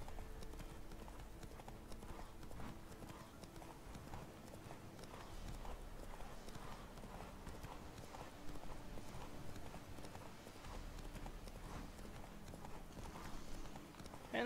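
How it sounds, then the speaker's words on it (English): Rhythmic hoofbeats of a horse galloping steadily in the video game The Witcher 3: Wild Hunt, a continuous clip-clop that runs the whole time at a moderate, even level, with no voices. "this horse can run for a long time"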